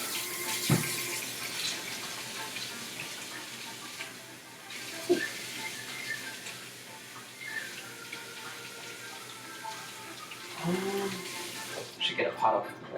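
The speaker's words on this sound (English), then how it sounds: "I need to like probably wash my hands now" A kitchen tap runs steadily as hands are washed in a sink, a soft continuous water hiss with a few clunks and splashes, while voices talk faintly in the background.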